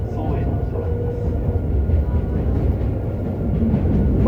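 JR Hokkaido 731 series electric train, car MoHa 731-109, running with an abnormal motor noise, a loud continuous onboard rumble with clattering wheels and a faint whining tone throughout.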